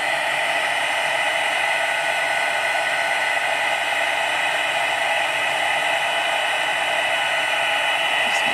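A heat embossing gun blows hot air onto vellum paper, producing a loud, steady whirring hiss that runs without a break from start to finish.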